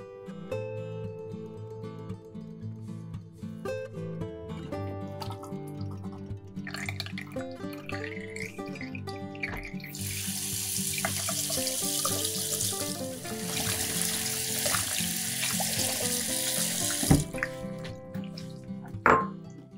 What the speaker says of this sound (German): spüle sie unter fließendem Wasser ab